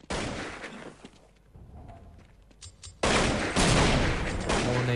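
Gunfire sprays through a wall in a Counter-Strike 1.6 match between Mousesports and ForZe, rapid loud bursts of automatic shots, a short lull with scattered fire, then a dense sustained volley to the end.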